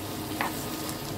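Onions and minced meat being stirred in a frying pan for a family bolognese sauce, a soft steady sizzle with light scraping strokes, one slightly sharper scrape partway through, close and alone.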